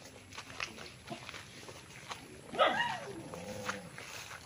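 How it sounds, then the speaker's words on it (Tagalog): A dog on a fruit farm lot in Magdalena, Laguna gives a single short bark at middle distance, standing out briefly over faint outdoor background noise. "May aso."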